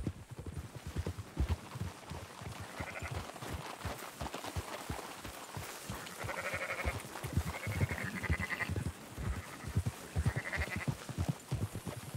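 Sheep in the Red Dead Redemption 2 video game bleat over and over during a roundup, with several nasal calls rising above a steady patter of hooves on the ground. The flock sounds close and busy and no one speaks.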